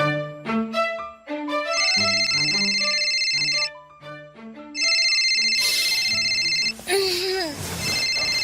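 A phone rings with an incoming call, playing a loud melodic ringtone of repeated tonal phrases. A voice briefly joins near the end.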